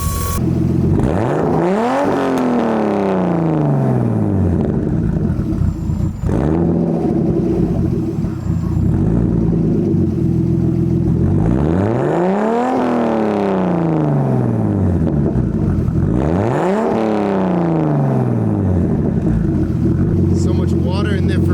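A forged turbo M50-powered BMW E30 engine is started and revved repeatedly, with loud rising and falling sweeps recurring every few seconds over a steady idle, and a voice talking over it.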